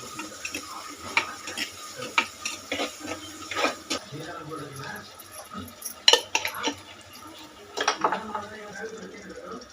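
Ground clove, cardamom and cinnamon paste sautéed and stirred in a curry pan for Tirunelveli chicken, giving scattered clinks and scrapes of a ladle against metal, with a voice talking over much of it.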